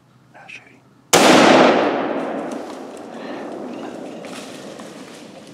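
A single loud, close gunshot rings out during a youth firearms deer hunt in Missouri, its sharp crack trailing into a long echoing decay across open ground, with a brief whispered voice just before it.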